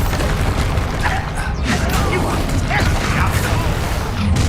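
In Hogwarts Legacy, the Bombarda spell goes off as blasting explosions, with a couple of sharp booms and mechanical crunching in a loud, busy mix alongside a voice.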